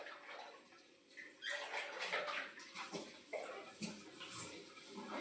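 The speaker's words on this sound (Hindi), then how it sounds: "ये मिक्सी वगैरह सब साफ हो जाएगी गर्म पानी से।" A mixer grinder jar is rinsed with hot water in a home kitchen. Faint, intermittent splashing and running water come in uneven bursts, quiet and close.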